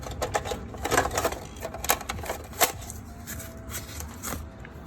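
A coin box on a vending machine is popped open and the coins inside rattle and clink, a run of small metallic clatters and clicks close by with no talking.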